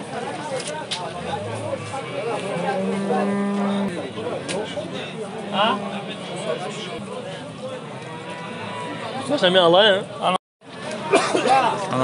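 Cattle with calves at a livestock market in Dushanbe's Leninsky District low and moo repeatedly among a steady crowd murmur and nearby chatter, the calls rising above the bustle at close to middle distance.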